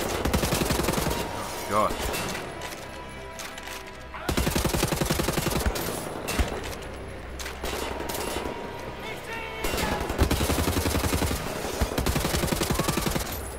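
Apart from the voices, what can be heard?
dual-wielded assault rifles firing in video game Wolfenstein The New Order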